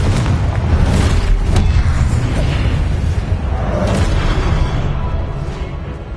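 Confringo spell explosions in Hogwarts Legacy, a loud, sustained booming roar with a couple of sharp bursts near the start and middle, gradually fading toward the end, with no talking.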